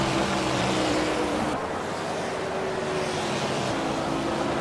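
NASCAR race cars roaring past a trackside camera at a race in Japan: a loud, continuous, close engine drone with steady tonal whine and no voices.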